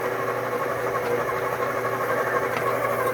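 A stand mixer whirs steadily on its second speed while creaming cream cheese and sugar for an Italian cream cheese cake, a continuous close motor hum with no talking.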